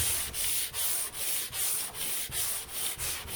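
Body filler on a 1978 Chevy Nova is block sanded in steady back-and-forth strokes, about eight rhythmic rasping passes, close and fairly loud with no talking.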